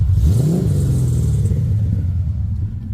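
A deep, rumbling 5.7-litre LS V8 swapped into a widebody BMW E36 revs up close and loud, the pitch climbing briefly then settling into a heavy, throbbing burble.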